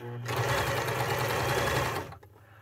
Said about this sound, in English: expose more of this raw edge seam that I'm sewing together up at the top here